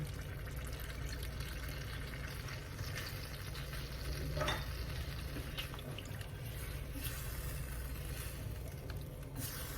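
Broth poured into a pot of beef kaldereta, a steady close bubbling and sizzling wash of liquid over the cooking meat, even in level throughout with a slight swell midway.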